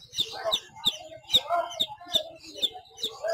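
Chickens at a poultry seller's stall in Mirpur, including desi and Aseel birds with chicks, cluck and chirp in a steady, rhythmic series of close, sharp calls, with no talking.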